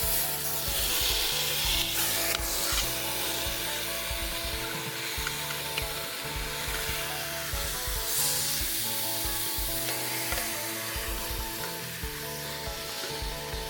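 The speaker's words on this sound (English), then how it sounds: "After you have browned the roast on both sides" A chuck roast browns in olive oil inside an Instant Pot, giving a loud, steady, crackling sizzle that runs without a break.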